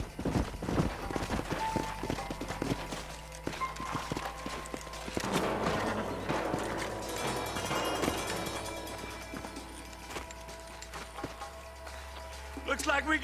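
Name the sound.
horses walking, hooves clip-clopping, in Red Dead Redemption video game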